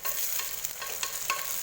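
Onions and a few mint leaves frying in a pan give a continuous bright sizzle, with several quick scrapes of a spatula stirring them, close and steady, no speech.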